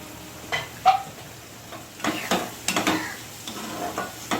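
Spice masala mixed with yogurt is stirred and fried in a pan, giving soft, intermittent scraping bursts over a quiet background sizzle.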